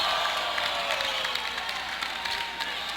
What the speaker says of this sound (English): A little ooh and nod from the Monroe crowd on the block.